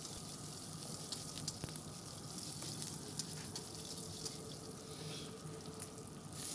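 Onions and curry leaves sauté in a pan for vathal kuzhambu, a faint, steady sizzle with occasional small ticks and pops, low in level and without any voices.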